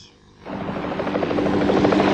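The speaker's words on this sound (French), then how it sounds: "10 scies circulaires suspendues à 20 mètres sous un hélicoptère" Helicopter hovering with ten circular saws hung about 20 metres below it, used by Finnish loggers; a steady rotor drone swells in after a brief quiet start and stays loud and continuous.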